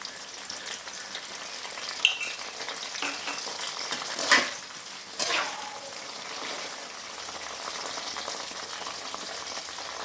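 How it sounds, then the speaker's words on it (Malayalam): Salt and turmeric water poured into hot oil with frying banana chips, giving a steady broadband sizzle with a few sharper bursts as the liquid hits, fairly close and alone. "ഉപ്പും മഞ്ഞൾപ്പൊടിയും മിക്സ് ചെയ്ത് വെച്ചിട്ടുള്ളത് നമുക്ക് ഒഴിച്ചു കൊടുക്കാം"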